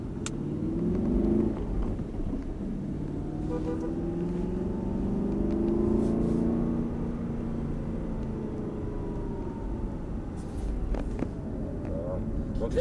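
Car engine rumbles and rises in pitch as the driver re-accelerates out of a corner on a circuit during a driving lesson, a steady close drone with a rising tone throughout.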